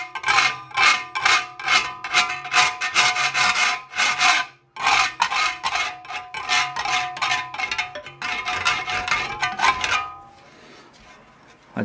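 Hand filing to remove burrs and jagged edges from a small Datsun 521 ball joint part, loud close rasping strokes in a quick steady rhythm with a short pause midway, ending in quieter hiss.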